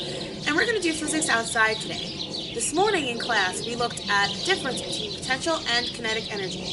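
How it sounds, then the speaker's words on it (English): Birds chirp and twitter outdoors in repeated short bursts, with some cooing, heard under a person talking steadily nearby. "You can hear the birds chirping around me."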